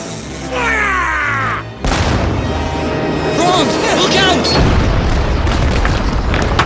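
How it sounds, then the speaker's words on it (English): Deep, heavy cannon blasts boom through the scene, a sustained rumbling roar of distant artillery fire with music and caw-like calls over it. "What are those cannon blasts?"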